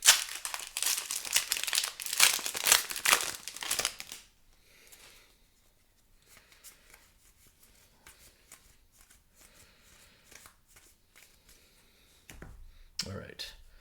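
Foil wrapper of a trading card booster pack crinkling and ripping loudly for about four seconds, then quieter card shuffling and rustling, with a final burst of handling near the end.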